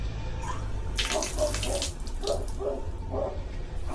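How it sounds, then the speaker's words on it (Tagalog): Water pours steadily from a working campsite shower at a lakeside car-camping site in Cavinti, Laguna, a continuous splashing hiss near the listener with faint irregular drips, no voices. "ang shower ay gumagana."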